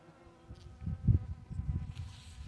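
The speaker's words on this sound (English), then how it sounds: "We have bees over here working the roses." Honeybees buzz around a rose bush in a yard garden, a low droning hum that swells and fades as they work the flowers close by.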